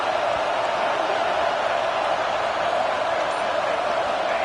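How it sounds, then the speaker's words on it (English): Stadium crowd roaring at a football game, a loud dense sustained wall of cheering that fills the whole space, steady with no breaks and no distinct voices standing out. "Listen to this crowd just shaking the girders of this place"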